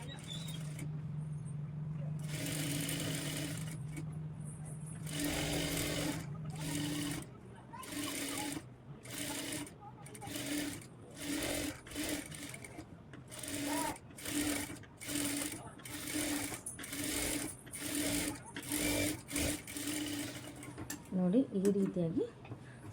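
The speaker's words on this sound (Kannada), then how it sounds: "ನೋಡಿ ನೀಟಾಗಿ ಸ್ಟಿಚ್ ಮಾಡ್ಕೊಳ್ಳಿ" A sewing machine stitching a Madhubala-style blouse runs in repeated short bursts of rapid whirring, close and fairly loud, separated by brief pauses.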